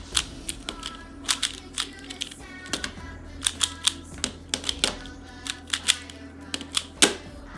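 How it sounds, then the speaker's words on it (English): A Rubik's Cube is turned and solved one-handed, giving rapid irregular plastic clicks and clacks in quick bursts, close and crisp against a quiet background. "I solved a Rubik's Cube before a fidget spinner stopped spinning"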